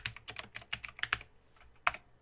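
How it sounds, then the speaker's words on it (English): Keys clack on a computer keyboard while typing into an Excel sheet: a quick run of crisp, close taps ending with one firmer Enter keypress. "Now I just press enter on my keyboard"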